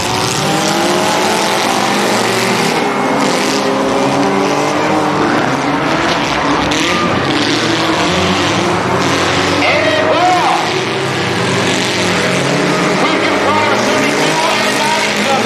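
Demolition derby cars race and collide in a loud continuous engine roar with crowd noise, while an announcer talks over the action throughout.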